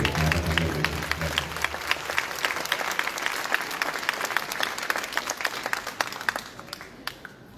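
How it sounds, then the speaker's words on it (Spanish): Audience at a Palestinian solidarity day event giving sustained applause, many hands clapping steadily and gradually thinning toward the end. "por favor, un fuerte aplauso para recibir este"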